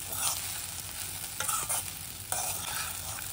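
Sabudana khichdi stirred in a pan, a few scraping spoon strokes and light knocks against the metal over a low, steady sizzle, heard up close with no voices.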